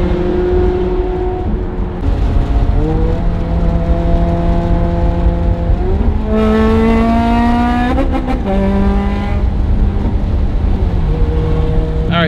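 A loud Ferrari engine revs hard through rising gear changes, climbing in pitch until it stutters against the rev limiter, then drops and pulls again.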